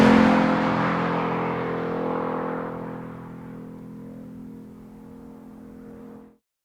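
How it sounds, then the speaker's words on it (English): Ford Mustang Mach 1 V8 engine on a downshift, a loud, steady drone heard from close by that slowly fades out and then cuts off abruptly, with no talking. "Let's downshift again."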